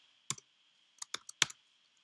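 Sparse, crisp keystrokes on a computer keyboard, about five isolated clicks spaced irregularly, close and quiet against a faint background hum.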